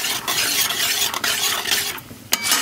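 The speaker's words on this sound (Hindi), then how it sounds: "हल्का सा मूंगफली को भून लेंगे" Peanuts lightly roasting in a pan for Bihari-style aloo samosa filling, with a steady dry scraping and stirring texture, faint sizzle and brief clinks of a utensil against the pan, close and alone.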